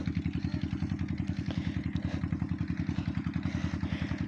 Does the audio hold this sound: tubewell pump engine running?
yes